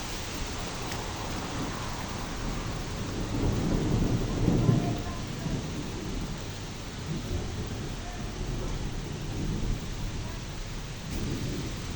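Steady rain hisses continuously with low rumbling swells of distant thunder underneath, fairly soft overall.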